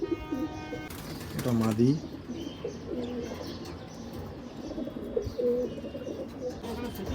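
Pigeons coo softly in short repeated phrases at a pigeon sale in Ichapur, West Bengal, with someone speaking close by and a brief rising whistle-like call early on.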